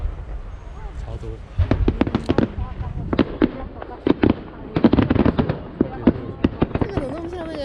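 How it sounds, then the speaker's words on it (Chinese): Aerial fireworks at the 2020 Luermen Matsu temple festival burst in loud, irregular volleys of sharp bangs and crackles, with people chatting among the explosions. "这个怎么那么像那个鞭炮？"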